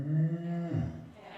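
A man imitates a cow with a low, drawn-out vocal moo that holds steady for under a second before sliding down and fading, close and alone.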